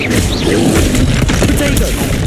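A Bombarda spell explodes in Hogwarts Legacy, producing loud, dense booms and crashing blasts that fill the whole stretch, with a voice mixed into the din.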